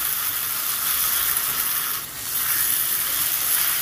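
Ginger-garlic paste with a little turmeric frying in released oil, a steady close hiss and sizzle with a brief dip in the middle.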